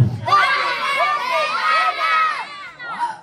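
A group of children at a first birthday party shout together in a loud, sustained burst of voices, close by, trailing off into a few shorter yells.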